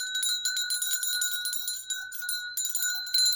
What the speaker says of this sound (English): I'm gonna clear out this energy with my Malaysian bell.